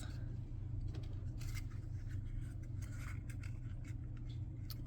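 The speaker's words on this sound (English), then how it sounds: "Then we get our scissors and cut" Several quick snips of scissors cutting through paper, close by, over a steady low hum of background noise.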